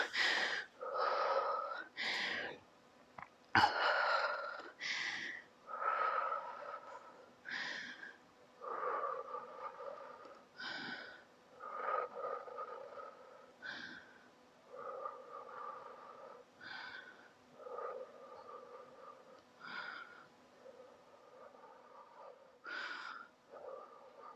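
Heavy, audible breathing during a two-minute rest after an at-home abs workout, a string of close, irregular puffs, gasps and wheezy exhales with short gaps between them and no talk.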